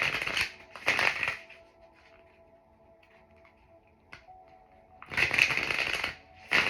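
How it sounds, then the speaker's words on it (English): Tarot cards are shuffled in quick riffling bursts close to the mic, two brisk runs at the start and more near the end, with quiet pauses between. "Give it a good shuffle."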